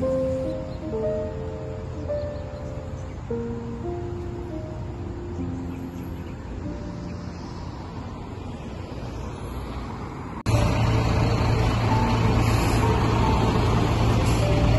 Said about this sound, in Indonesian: Dan setelah menunggu bis beberapa saat, akhirnya bisnya juga datang ya teman-teman